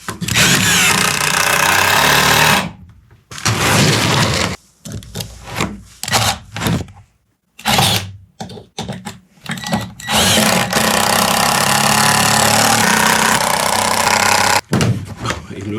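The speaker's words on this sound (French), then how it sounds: "Puis je les ai pré-percés parce que c'est de l'épinette." Power drill boring pilot holes into spruce boards, heard as long loud grinding bursts of drilling broken by short pauses and a few brief clatters, close by with no talk.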